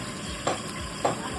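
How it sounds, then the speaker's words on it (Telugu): Bagara rice is stirred in a pot, two brief scraping strokes about half a second apart over a faint background sizzle, close and fairly quiet, with no talk. "బగారా రైస్. మిక్స్ చేస్తున్నా."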